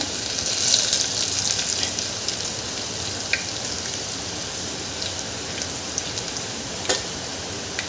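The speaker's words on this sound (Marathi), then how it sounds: "यामध्ये आपण ठेचलेला लसूण घालून घ्यायचा आहे" Crushed garlic added to a hot tempering of bloomed cumin and mustard seeds, with curry leaves, sizzles as a steady crackling hiss with a few sharper pops, moderately loud and continuous.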